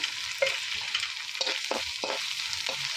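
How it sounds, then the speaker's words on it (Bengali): Onion, green chilli and garlic fry in a pan with a steady sizzle, broken by several sharp scrapes and knocks as a spatula stirs them, heard up close with no talking. "পেঁয়াজ কাঁচা লঙ্কা রসুন ভাজা হচ্ছে।"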